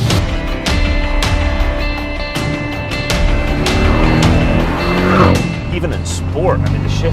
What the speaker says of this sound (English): I love the burble on the overrun. I guess we're just kids. It makes a lovely noise, and that GTS exhaust on it is fantastic.